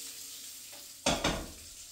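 Food sizzling in a hot frying pan, with a soft steady fry that suddenly jumps into two loud hissing bursts as something is stirred or added, then settles back down.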